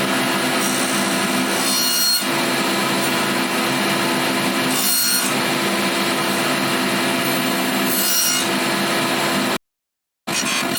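Table saw cutting a wooden board into a circle, a continuous close grinding whine of the blade in wood, with three brief louder rasping surges as the board is turned, then a sudden stop and silence before the whine resumes.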